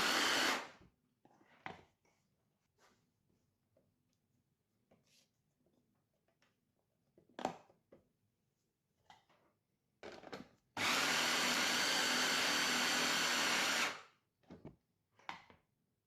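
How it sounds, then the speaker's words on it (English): A food processor pulses cashews, raisins and melted butter, giving several short whirring bursts and one longer loud three-second run, with quiet clicks and scraping between pulses. "Pulse and scrape down the sides until there are no full-size cashews remaining."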